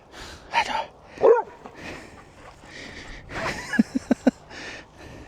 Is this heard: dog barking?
yes